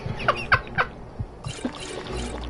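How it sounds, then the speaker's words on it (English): In the Skyrim video game a chicken gives three short, sharp clucks close by, followed by a brief soft cluck and a wash of background game noise. "now there's a chicken clucking in my ear"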